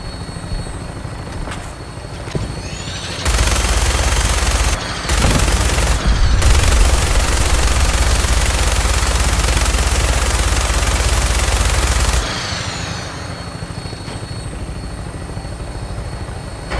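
A Fallout 4 vertibird's helicopter rotor drones steadily while its minigun fires long, dense bursts for about nine seconds, loud and close, with the rotor continuing alone before and after.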